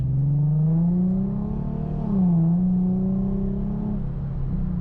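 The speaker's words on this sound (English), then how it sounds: "The sound of my car is amazing, boy." An Infiniti G37 car engine with its muffler removed hums steadily up close, with a short rev swell in the middle before settling back to an even drone.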